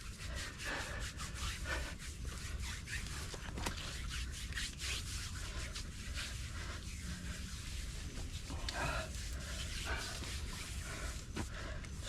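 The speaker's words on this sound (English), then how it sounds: "Just rub dirt all over yourself" Someone rubs mud over bare skin outdoors on a mud crab outing, a constant close scraping and rubbing against a dense background hiss.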